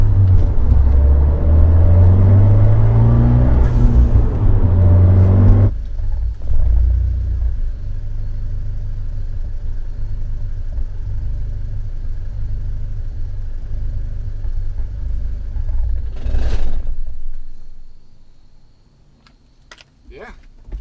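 A 1.4L MultiAir Turbo Fiat 124 Spider engine idling rough with a cylinder 4 misfire, a low uneven rumble that drops after a few seconds, with clicks and a brief burst near the end as it shuts down.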